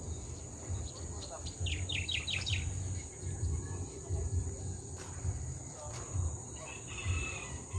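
Chickens and a rooster in a yard cluck and call, with insect-like chirping and steady outdoor background hum; brief voices occur between the bird sounds.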